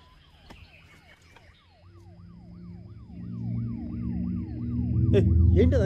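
A wailing siren on the Home Minister's convoy rises and falls in a regular cycle, growing louder as vehicle engines rumble closer and swell near the end.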